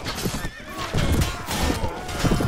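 Whinnies and hoofbeats from a war horse in the medieval battle game Mount & Blade: Warband, loud and continuous amid the clatter of combat.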